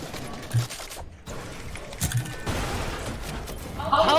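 Shotgun blasts from the video game Fortnite during a competitive trios match, a few scattered booming shots amid game noise and rustling, with players talking over the action.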